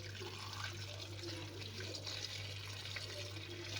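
Hot liquid poured over a prepared dish, a continuous splashing, trickling wash that runs steadily throughout, close up with constant background hum.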